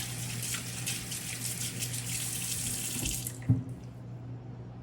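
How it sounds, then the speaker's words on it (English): Tap water running steadily into a sink during handwashing in a home kitchen, a close continuous gush that stops abruptly near the end, followed by a small clunk of the faucet being shut. "wash my hands"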